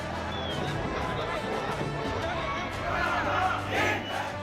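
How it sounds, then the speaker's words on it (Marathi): Huge crowd of Maratha protesters celebrating at Azad Maidan, a dense continuous roar of shouting and cheering voices that swells louder near the end. "आरक्षणाची लढाई जिंकल्यानं आझाद मैदानात राज्यभरातून आलेल्या लाखो मराठा आंदोलकांनी जल्लोष केला"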